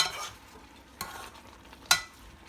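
Malvani chicken sukka, cooked without added water on low gas, stirred in a pan: two brief scraping strokes about a second apart over a faint background sizzle, with no talking.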